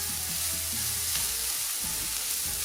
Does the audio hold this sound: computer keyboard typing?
no